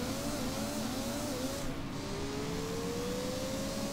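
A compact race car's engine in Gran Turismo 2's Compact Car World Cup drones steadily and loudly, its pitch sliding up through gear changes and climbing again, with no voices over it.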